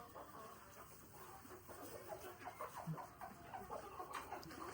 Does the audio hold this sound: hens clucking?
yes